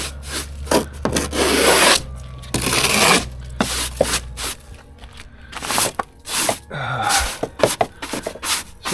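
Snow and ice being brushed off a car during a Texas winter freeze, heard as close, irregular scrubbing and scraping strokes in uneven bursts with short pauses between them.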